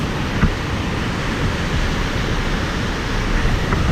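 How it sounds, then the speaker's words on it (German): Loud, steady roar of river water rushing through the Schöllenen Gorge in the Swiss Alps near the Gotthard Pass, a continuous broadband wash with no pauses and no voices. "Hier ist es sehr, sehr laut wegen des Wassers."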